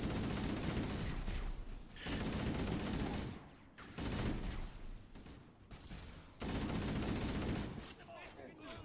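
Gunfire in Halo: Combat Evolved comes in several long, loud bursts separated by brief gaps, a near, heavy rattle that dominates throughout, with some voices mixed in.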